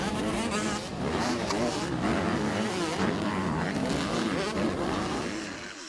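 The start of an MX-85 junior motocross race at the 2015 Asian Motocross Championship in Palembang, Indonesia: a dense pack of small motocross bikes screams and revs loudly and continuously, engines overlapping nearby with no pause, while a voice talks over it.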